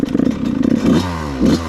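Dirt bike kick started on a trail, the engine catching and sputtering into a rough, loud close idle with a few uneven revs.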